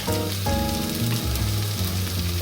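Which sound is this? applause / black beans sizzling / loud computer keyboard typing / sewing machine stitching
black beans sizzling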